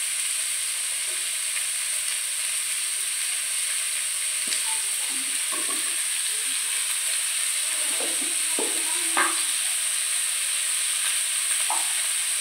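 Chopped onions with turmeric and salt fry in a pan, a steady bright sizzle and hiss running throughout, with occasional soft stirring scrapes near the close.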